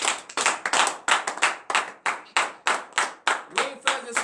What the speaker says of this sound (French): Que je vous demande d'applaudir très très fort cette parole de Dieu.